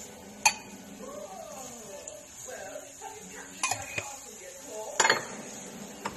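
Kitchen clatter as oil is poured into a pan for chicken curry, with clinking pots and utensils in several sharp knocks over quiet background talk.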